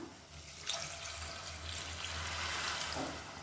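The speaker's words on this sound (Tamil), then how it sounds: "இந்த தண்ணியை வந்து சேர்த்துக்கலாம்" Heated water is poured into a kurma masala in a pan, a steady splashing pour with a brief sizzle near the start and end, alone and fairly soft.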